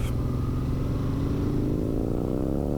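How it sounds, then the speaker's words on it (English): Harley-Davidson Fat Bob 114 fitted with a Bassani exhaust, giving a steady, loud low rumble close by with a gently rising engine pitch, as if revving up, and no talking. "That Bassani exhaust on that Fat Bob."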